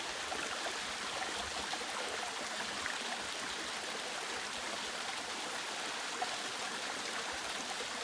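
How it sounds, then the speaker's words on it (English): Steady rushing water flows and splashes continuously, a broad constant roar of a mountain stream and nearby waterfall on Mt Pinos, with no voices. "look at that waterfall"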